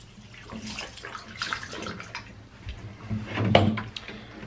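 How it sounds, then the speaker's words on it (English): Distilled water rinsing a Canon Pro 100 printhead runs in a steady, close splashing stream with faint clatter from handling the part, rising to a louder burst of water near the end. "I'll just rinse it off with some distilled."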